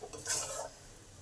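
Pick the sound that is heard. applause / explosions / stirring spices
stirring spices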